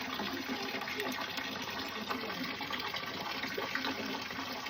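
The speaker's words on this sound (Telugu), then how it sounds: "దీని లోపల నుంచి రాయి లోపల నుంచి న్యాచురల్గా వాటర్ అనేది వస్తూ ఉంటుంది" Spring water flows naturally out of rock in Meghalaya, a continuous close gushing trickle with no voices.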